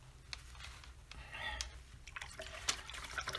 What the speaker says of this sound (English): rinsing my brush